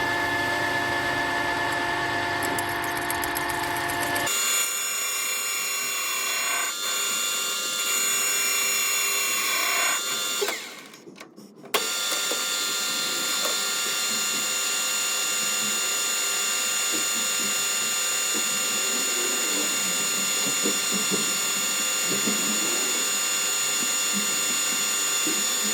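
Metal lathe machining the bottom face of a cap in a workshop, a steady droning motor hum with a high cutting whine, briefly interrupted near the middle, then continuing evenly to the end.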